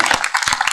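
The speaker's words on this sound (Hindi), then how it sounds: "साहब के लिए तालियां बजाएं" Audience applause at a Hindi comedy and satire poetry stage show, a short burst of many hands clapping close and loud, with brief dips in the patter.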